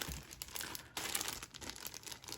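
Crinkling plastic bag holding the canvas of a stamped cross stitch kit, handled close up in a steady run of dense crackles and crunches with brief pauses, no talking.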